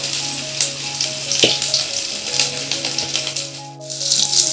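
Ginger garlic paste sizzles hard in hot oil, a loud, continuous close crackle with sharp spattering pops and light metallic clinks from the pan, while a low steady hum runs underneath.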